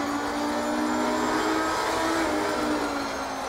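Race car engine from Assetto Corsa Competizione, a steady loud drone with a sustained whine that holds at a constant pitch throughout, sounding like continuous high-speed running with no talk over it.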